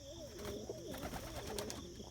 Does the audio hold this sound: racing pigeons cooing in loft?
yes